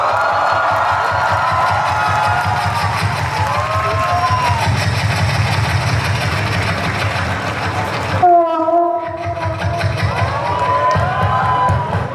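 A played train-arrival sound effect: loud rumble of a train rolling in with rhythmic clatter and squealing wheels, then a sharp horn blast partway through, with crowd noise around.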